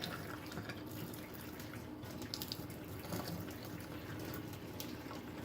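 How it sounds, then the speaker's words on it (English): Water being poured off soaked beans into a kitchen sink, a soft, continuous trickle and splash with scattered drips, faint and close, no talking. "bring the beans over to your sink and just try to like get the water out"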